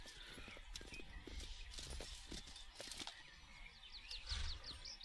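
A horse's hooves clip-clop as it is ridden in the Western video game Call of Juarez: Bound in Blood. The hoofbeats are quick and soft, set against faint game ambience, with scattered clatter and a brief bird-like chirp toward the end.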